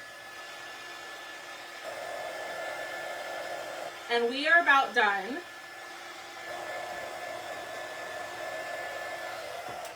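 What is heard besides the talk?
dryer blowing on painted mason jar door hanger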